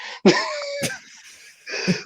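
A few sharp, raspy coughs close to the microphone, separated by short pauses, with a wheezy, strained edge.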